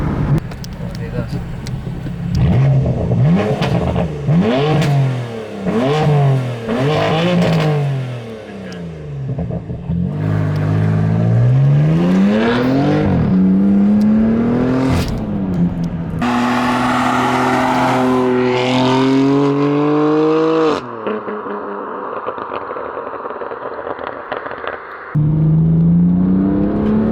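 A BMW M3 F80 fitted with a loud FI exhaust revs hard in second gear, producing repeated rising and falling engine sweeps up close, followed by sustained high revs and a sharp drop, with someone talking over parts of it.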